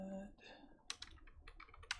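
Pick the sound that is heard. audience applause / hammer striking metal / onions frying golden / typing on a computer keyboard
typing on a computer keyboard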